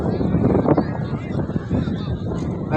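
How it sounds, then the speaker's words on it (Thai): Strong wind gusts at an Isan kite-flying competition festival in Huai Rat, Buriram, roaring continuously and loudly across the clip, mixed with voices of a crowd outdoors. "โอ้ยลมแรง ลมแรงนะครับ"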